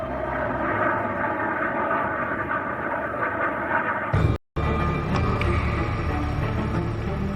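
The royal plane's aircraft engines roar loudly and steadily at Aberdeen Airport, a continuous close drone with a brief cut in the middle and no voices.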